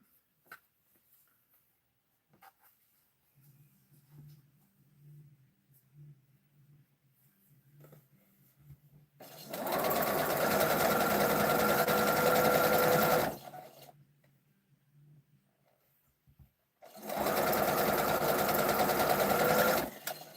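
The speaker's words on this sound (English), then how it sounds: "Did you set up the second sewing machine, Patty G?" A sewing machine runs in two long, steady bursts of fast stitching, loud and close, separated by a pause with faint low humming and handling noise.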